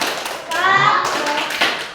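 A school class claps in a quick rhythmic pattern with a spoken cheer mixed in, as children and a teacher's voice overlap during a short lively burst of group clapping.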